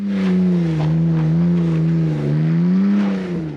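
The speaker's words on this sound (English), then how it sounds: "they have just under 200 horsepower from an inline six, which also sounds amazing" A BMW E46 inline-six of just under 200 horsepower holds a steady high rev with a smooth, rich harmonic drone, loud and close, dipping briefly before rising again.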